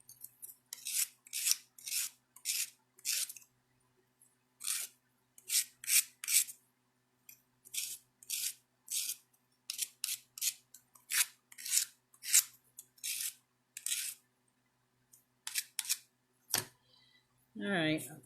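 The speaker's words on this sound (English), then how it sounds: "I think I'll snip it off a little bit." Metal snips cut through thin metal during fold forming, sharp crisp snips in irregular clusters, close and isolated against near silence, with a brief rustle at the end.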